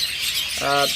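Caged local-bred forpus parrots give a brief, bright chirp near the end, set against a hiss of background chatter from other birds.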